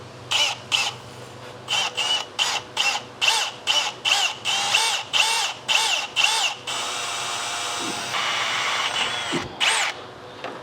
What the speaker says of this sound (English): We're gonna drill a hole in this.